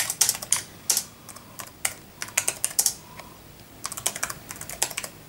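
Computer keyboard typed on in quick irregular bursts of sharp clicks, close and fairly quiet, with short pauses between runs and no talking.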